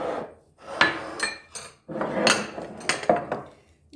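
A cooking pot being taken out and handled in a home kitchen, with several sharp metallic clanks and scrapes of pots and utensils, close and fairly loud, in irregular bursts.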